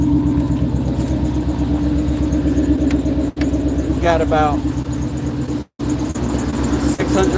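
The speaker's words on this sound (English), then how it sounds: "that's his truck. It's a new engine in that one." A truck with a newly installed engine idles close by in a steady, loud rumble, while a voice speaks briefly over it.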